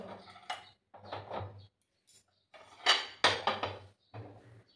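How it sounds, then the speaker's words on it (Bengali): Semolina is poured into a kitchen bowl in several short, close bursts of gritty rattling and clinking against the dish, separated by brief silences. "সুজিটা এবার আমি একটা বাউলের মধ্যে ঢেলে দিলাম।"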